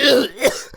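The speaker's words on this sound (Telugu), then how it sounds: "దగ్గు." A single sharp cough rings out up close, followed by a short raspy catch of breath, with no talking.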